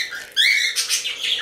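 A young female Bourke's parakeet in an indoor bird room gives a few quick, bright chirps up close, with no voices around it.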